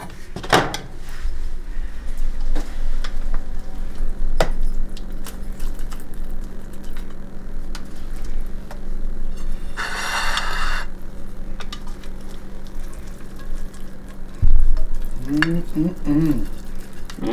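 Bacon and eggs frying in a pan, a steady low sizzle running throughout with scattered kitchen clatter, a brief burst of louder noise midway and a thump near the end.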